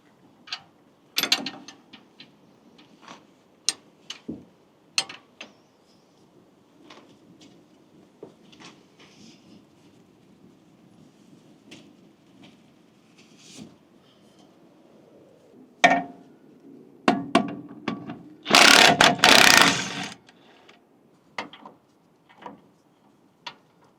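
Ratchet wrench clicking in scattered short bursts while removing a brake caliper on a Ram 2500 pickup, with a louder harsh burst of ratcheting near the end, close and mostly alone.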